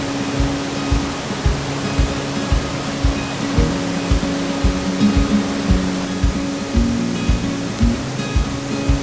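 A waterfall at Lochgoilhead pours in a steady, loud roar of rushing water, with low rhythmic thuds running underneath throughout and no voices.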